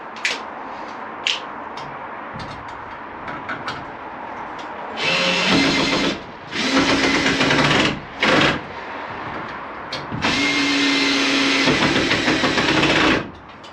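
A power drill drives screws into a wooden garage storage board in four loud bursts of whirring, separated by short pauses, close by.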